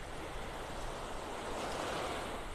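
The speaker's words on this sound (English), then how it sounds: "it's got a few more little waves" Ocean waves wash onto a beach in North Naples, Florida, a steady broad roar of surf mixed with wind noise, continuous and fairly close, with no voices.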